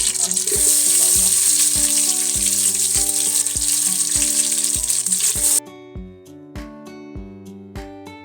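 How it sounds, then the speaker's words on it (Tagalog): Garlic drops into hot cooking oil and sizzles loudly and steadily up close, with a few sharp knocks of a utensil against the pan; the frying cuts off abruptly near the end, leaving only a few clinks. "Mainit na po yung ating mantika. So, isama na natin ang bawang."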